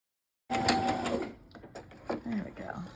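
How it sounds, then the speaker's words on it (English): A sewing machine stitches a handmade grungy doll with yellow thread, its rapid mechanical whir running steadily for about a second, then breaking into shorter bursts as a person talks over it. "Let's sew everything together."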